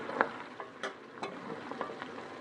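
Oil heats in a kadhai for mutton, with faint frying crackle and scattered light clicks and stirring knocks over a steady low hiss.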